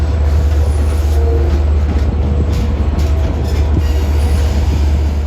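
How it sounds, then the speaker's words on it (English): A Long Island Rail Road commuter train rumbles steadily past close by into the Jamaica rail yard, with a deep constant drone, rattling wheels and faint squeals along the track. "Now this train going in the yard is 17 from Montauk to Jamaica."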